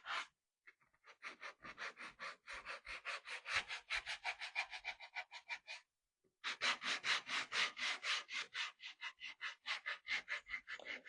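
Sandpaper rubbed by hand back and forth over a wooden craft piece to distress it for a vintage look, a fast rhythmic scratchy scrubbing in steady bursts with one brief pause midway, close and fairly quiet, no talking.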